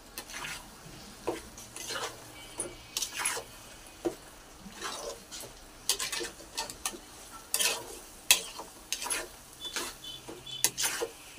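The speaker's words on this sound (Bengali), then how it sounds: "এবার নাড়িয়ে চাড়িয়ে নেব।" Food being stirred in a pan: repeated scraping and clinking strokes of a utensil against the pan at an uneven rhythm, fairly close, over a faint background sizzle with no talking.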